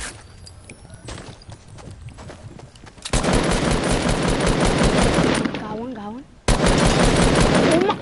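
Rapid gunfire from a shooter video game, bursts of automatic shots ringing out loud and close, broken by a short gap, with game sound effects mixed in.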